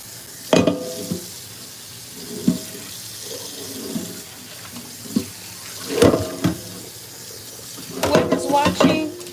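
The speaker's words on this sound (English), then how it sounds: "I'm going to finish rinsing the ribs on this side" Tap water splashes in a kitchen sink while ribs are rinsed under it, coming in intermittent bursts and clatters over a quiet background, with no talking.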